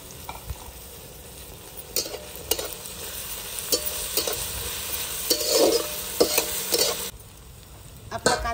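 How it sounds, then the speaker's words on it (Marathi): Onion and potato are stir-fried in a pan for kanda batata poha, giving a loud, continuous sizzle with a spatula repeatedly scraping and tapping the pan, close up and without speech. "आपण आता बटाटा पण टाकून घेणार आहे, म्हणजे कांद्याबरोबर बटाटा पण छान परतून जाईल"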